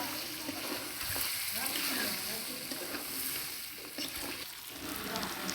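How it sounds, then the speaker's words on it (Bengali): Chopped tomato, green chilli and capsicum stir-fried in a pan, a dense continuous sizzle with soft stirring scrapes, fairly quiet and even throughout. "টমেটো কুচি দিয়ে দেবো, তার সঙ্গে লঙ্কা কুচি আছে, ক্যাপসিকাম আছে, ভালো করে নেড়ে চেড়ে নিচ্ছি"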